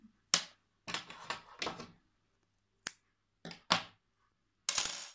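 Crochet yarn being snipped with scissors after the last loop on a baby hat, heard as a few crisp, close metallic clicks and snips separated by silence.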